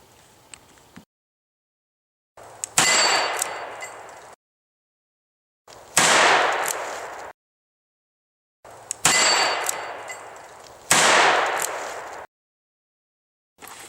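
Four sharp, loud reports from a Ruger New Vaquero revolver firing cowboy action ammunition, each a few seconds apart and trailing off in a short echoing decay, with silence between shots.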